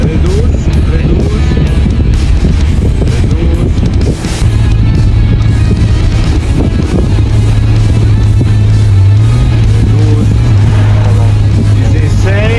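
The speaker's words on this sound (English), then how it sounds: "Hear the wind behind me." Strong wind buffeting a microphone outdoors near a car on a road trip to Italian car factories, a steady loud roar with a low engine drone and faint voices underneath.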